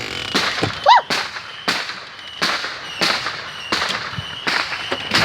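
Fireworks burst close by outdoors at a home, a series of sharp loud bangs spaced about a second apart, one with a rising whistle before its blast.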